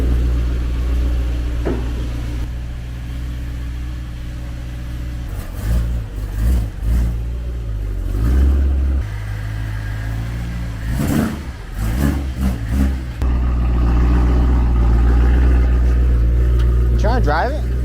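A BMW E92 M3 engine starts and revs in a body-shop setting beside a frame machine, with a steady low idle punctuated by several sharp rev bursts, close and loud, while people talk over it.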